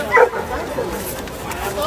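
A single sharp dog bark near the start at a dog show, followed by steady murmuring voices and background chatter.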